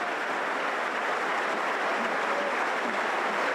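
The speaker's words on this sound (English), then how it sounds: "And sympathetic applause for Ryan" Sympathetic applause rises from a football crowd at a Blackburn Rovers v Birmingham City Championship match as an injured player is stretchered off, a steady, even patter of clapping spread across the stadium, sounding moderately distant, with no voices over it.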